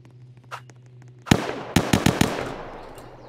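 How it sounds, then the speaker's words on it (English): Gunshots in a Roblox police game: one sharp crack followed by a quick cluster of four loud shots, each ringing out and decaying. "apparently there's shots over here, guys"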